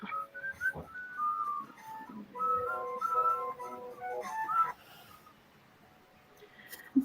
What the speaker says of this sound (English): I wasn't planning to stop whistling at the exact same time as the music.